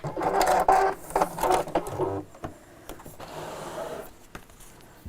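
A sewing machine stitching fabric in short bursts, first a loud fast whirring run, then a pause and a softer, steadier stretch as it reverses direction, close and without speech.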